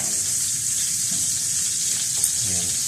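Margarine sizzling in a frying pan while cooking a chicken mushroom dish, a constant bright hiss with a few faint clicks, no talking.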